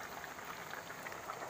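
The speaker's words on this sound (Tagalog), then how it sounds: "Kumukulo na po ang ating langka." Jackfruit in a pot of liquid boils over a strong wood fire outdoors, giving a faint, steady bubbling and popping simmer close by with no voices.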